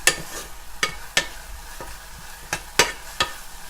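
Tomatoes sautéing in a pan for tomato kootu are stirred in a series of sharp, scraping strokes, roughly one every half second to second, over a faint background sizzle.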